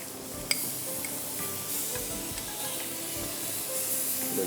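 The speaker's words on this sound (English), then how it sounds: "So I'm going to add some of the ginger and garlic paste to the dish as well." Ginger and garlic paste sizzles and fries in a hot pan for a vegetarian korma, a steady bright hiss running throughout with a stir and a sharp pot clink near the start.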